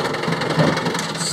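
A kid's electric ride-on toy car fitted with a speed resistor drives along, producing a steady, moderately loud motor and gear whir with a slight rattling texture throughout.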